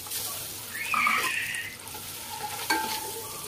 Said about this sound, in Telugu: ఇప్పుడు ఆయిల్ పోసుకొని ఎగ్స్ వేపుకోవాలి ఫ్రెండ్స్